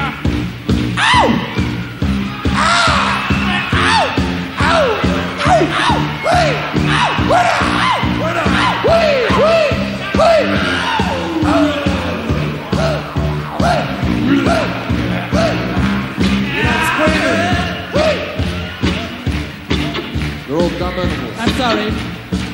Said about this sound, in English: And then you gotta scream like an animal.